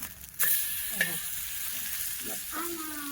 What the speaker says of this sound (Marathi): हे बघा कटलेट आपण आता पलटून घेऊ